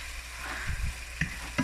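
Smoked herring shreds frying in a pan, a soft steady sizzle with a few brief scraping stir clicks, close and alone without talk.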